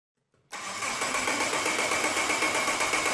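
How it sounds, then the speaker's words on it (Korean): A car engine at a vehicle maintenance training station catches abruptly after near silence, then runs at a steady, loud, even idle; no talk. "크랭킹을 시키고 엔진 작동 상태를 확인을 해봅니다"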